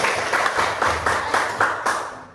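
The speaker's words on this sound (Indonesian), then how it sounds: "kita beri tepuk tangan buat teman-teman." A short burst of applause, many hands clapping in a rhythmic, pulsing pattern before fading out.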